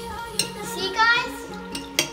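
A utensil stirs a mixture in a dish, giving a few sharp clinks and scraping swirls in a short burst, close by.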